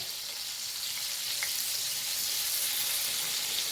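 Crab fries in a pan with curry leaves, a steady bright hiss of sizzling oil, close and fairly quiet, continuous with no talking.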